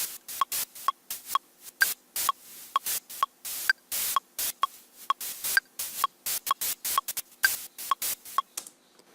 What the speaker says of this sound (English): Maybe I put it with the metronome.